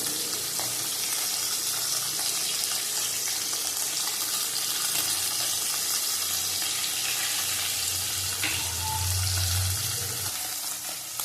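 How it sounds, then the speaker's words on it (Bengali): Parshe fish frying in oil, a steady broad sizzle running throughout with a faint background hum and occasional utensil touches, no talking. "এরকম মাছগুলি হয়ে গেছে, এই মাছগুলি ভাজা তুলে নেব"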